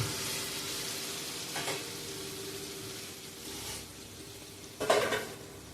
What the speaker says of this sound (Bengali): এবারে আমি একটু গরম জল দিয়ে দিলাম ওর মধ্যে।